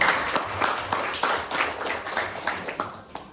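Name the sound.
classroom applause for a student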